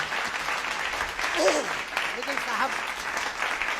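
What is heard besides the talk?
audience applause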